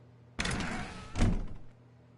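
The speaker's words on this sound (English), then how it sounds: "When Stanley came to a set of 2 open doors, he entered the door on his left." A door in The Stanley Parable video game swings and thuds shut, a broad sustained rush of sound ending in a heavier low thump, with no talk.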